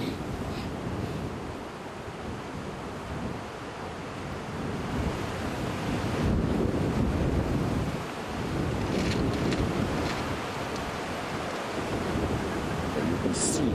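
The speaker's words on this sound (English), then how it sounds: "the wind really starting to rush now" Steady outdoor wind rushes across the microphone during a rainy sunrise game drive on an African safari, a broad continuous roar that swells midway and stays loud throughout, with no voices.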